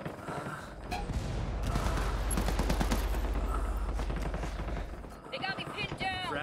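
Dense, sustained automatic gunfire in the PC shooter Ghost Recon Wildlands, with rapid overlapping bursts loud and continuous for several seconds before thinning near the end, mixed with game ambience.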